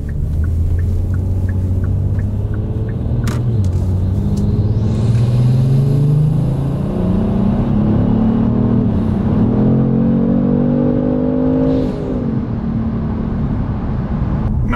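A Kia Stinger fitted with an HPS cold air intake revs up loud and close, its engine note climbing, falling and rising again in sustained pulls with no talk over it.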